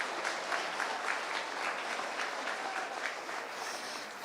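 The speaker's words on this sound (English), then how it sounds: "let's give them a round of applause" Steady applause from an audience at a 4-H llama showmanship contest, a continuous wash of many hands clapping at moderate level without voices.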